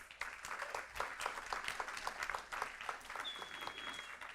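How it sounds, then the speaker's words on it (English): A school board meeting audience gives a round of applause for student board members, with steady dense clapping throughout, moderately distant and fairly quiet. "our student board members certainly deserve another big round of applause"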